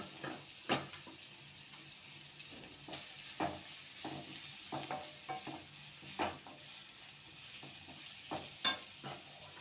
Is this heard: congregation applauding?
no